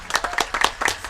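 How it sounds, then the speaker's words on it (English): A small audience at a Teachers of the Year ceremony claps briefly. A short burst of individual, close-sounding hand claps comes in an uneven rhythm. "Let's go ahead and give a round of applause"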